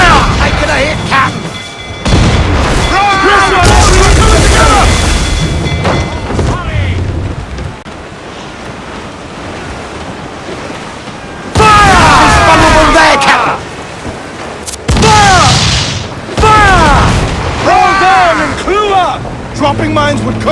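Ship cannons fire during a naval battle in Assassin's Creed Black Flag: several loud, heavy booming broadsides come in separate bursts over shouting crew voices and rushing wind and water.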